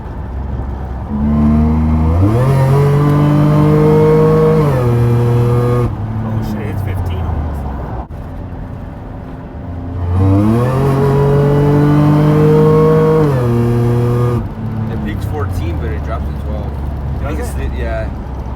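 A supercharged 2015 Toyota Sienna minivan is driven hard on a test drive, two loud full-throttle pulls with rising engine pitch and supercharger whine, each dropping off to a lower cruise, with voices talking throughout.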